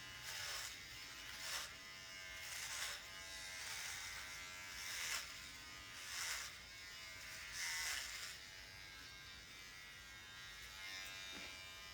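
Cheap electric hair clippers buzz steadily while shaving a head, the motor tone swelling and dipping in repeated passes every second or two, close and fairly quiet with no talking.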